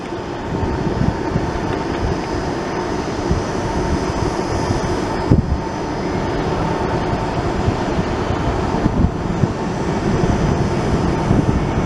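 FedEx cargo plane landing, a loud sustained jet roar with broadband rumble that holds steady and swells slightly toward the end, with no one speaking.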